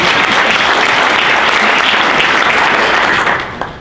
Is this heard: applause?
yes